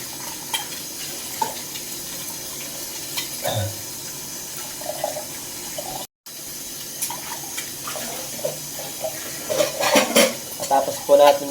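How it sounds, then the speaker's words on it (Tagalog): Soaped dishes are rinsed under a running kitchen tap, with steady water flow and occasional clinks and splashes of plates in the sink. "babanlawan na lang po natin kasi nasabon na."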